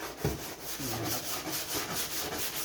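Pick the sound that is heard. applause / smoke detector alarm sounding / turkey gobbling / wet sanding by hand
wet sanding by hand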